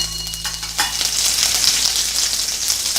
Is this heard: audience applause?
no